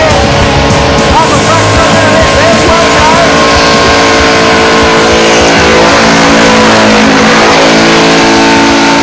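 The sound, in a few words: car engine revving during burnout at Summernats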